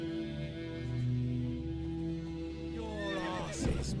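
A horse whinnies in The Witcher video game, its neigh rising loud and close in the last second over a steady droning music bed.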